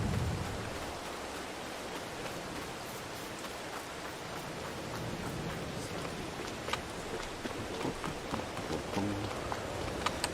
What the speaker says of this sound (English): I'm done with this rain